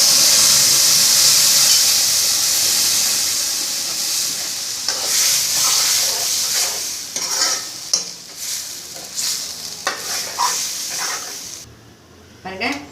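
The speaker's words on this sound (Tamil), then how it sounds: "பாருங்க, குழம்பு நல்லா கொதிச்சுன்னு இருக்கு." Kuzhambu curry boils and spatters in a pot, a loud hissing, sizzling wash at first that thins into bubbling pops and a few scrapes of a stirring spoon.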